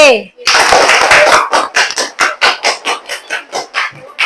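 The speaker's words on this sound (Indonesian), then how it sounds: "tepuk tangan dulu untuk kelompok B" Classroom applause for a student group, starting as a burst of mixed clapping that settles into slow rhythmic unison claps, loud and close, with a brief voice at the start.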